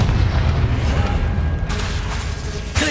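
A Confringo fire spell in Hogwarts Legacy bursts into a deep, rumbling explosion with a heavy low boom, followed by a sharper crack of impact near the end.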